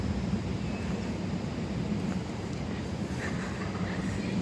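A city train pulls in with a steady, close, broadband rumble lasting the whole stretch and no voices over it.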